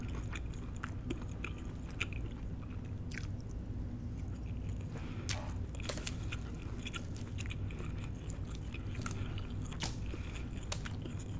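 Close-up chewing of a chicken pineapple fried rice bowl, with continuous wet mastication and soft crunchy bites repeating throughout at low level, with no speech.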